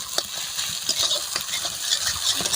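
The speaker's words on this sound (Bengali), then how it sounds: "ডিমটাকে এইভাবে গুঁড়ো করে নেব।" Egg being broken up and stirred in a pan while cooking egg chowmein, a steady hiss of frying with light scraping and tapping strokes throughout, close and fairly loud.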